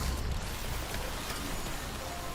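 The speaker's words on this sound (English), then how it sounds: "Well, it's raining" Steady rain falling in a video game, a constant even hiss of drops spread across the whole clip, with no voices over it.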